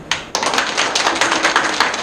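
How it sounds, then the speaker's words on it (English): A group of people at a teachers' empowerment session clap their hands together, two separate claps followed by a quick, uneven flurry of many overlapping claps, close and bright. "Where is the energy for clapping?"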